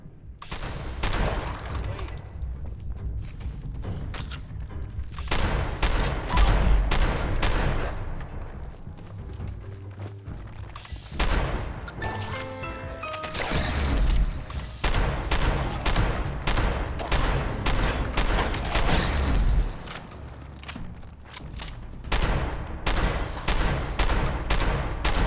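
Rapid bursts of shotgun fire in Fallout 76 crack out in dense volleys, loud and close, with short pauses between clusters of shots and booming low impacts throughout.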